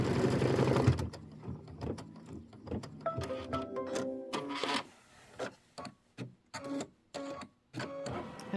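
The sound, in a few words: sewing machine stitching tack down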